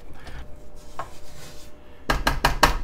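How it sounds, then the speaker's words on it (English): A spatula scrapes down a mixing bowl of snickerdoodle dough: faint rubbing and a light tap at first, then four quick, louder scraping strokes close by near the end. "We're gonna scrape the bowl down, baby!"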